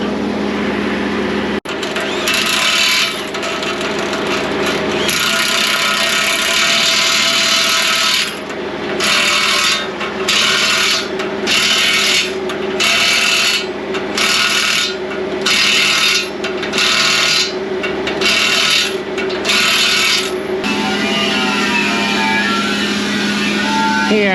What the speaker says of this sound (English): He has to run a wire wheel around it, or just to clean it up